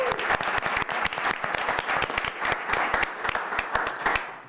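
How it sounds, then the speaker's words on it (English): A room at a town board meeting breaks into dense, steady applause, many hands clapping together at close range for about four seconds before it tapers at the end. "everyone give a big round of applause for Addie this week."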